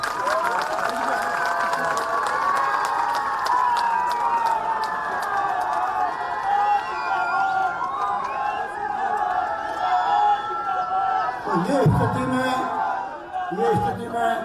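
Rally crowd in Jodhpur applauding and cheering loudly for several seconds, a dense wash of clapping and shouts, with a voice speaking over the noise.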